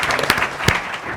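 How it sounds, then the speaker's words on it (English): Brief applause for an Island Elementary teacher at a school district board of trustees meeting, a short burst of clapping from the room with a couple of sharper claps standing out. "let's give her a hand. Hand clap."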